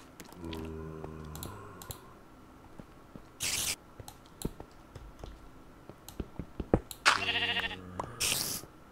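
Sheep in Minecraft bleat twice in quavering, tonal calls amid rapid keyboard typing and mouse clicks, with short blocky game sound effects between them.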